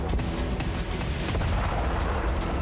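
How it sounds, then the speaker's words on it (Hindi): A Russian rocket strike on a Ukrainian army command post in Chernihiv: loud, dense, rumbling blasts and booms that run together without a break, with no voices. "चेर्निहिव में रूस ने यूक्रेनी सेना के कमांड पोस्ट पर रॉकेट से जबरदस्त हमला बोला"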